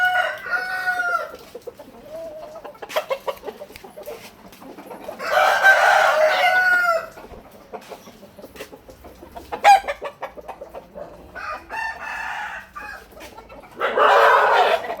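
Chickens cluck and squawk close by in bursts, with louder rooster-like calls breaking in between quieter stretches.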